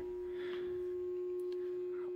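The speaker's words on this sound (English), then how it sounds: "this guy right here. The battery charger." A battery charger hums near a 1993 Ford Bronco, giving a steady, faint, even electrical tone that runs unbroken through the whole moment in a quiet garage.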